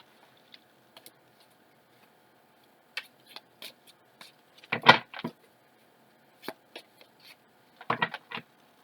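Tarot cards being shuffled close up, scattered soft riffles and flicks with a denser burst of card slaps in the middle and another near the end, in an otherwise quiet room.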